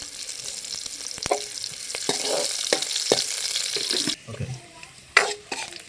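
Onions and dried red chilies frying in hot oil in a pan for a South Indian side dish, a close, steady sizzle broken by a few scraping stirs and clinks of a spoon.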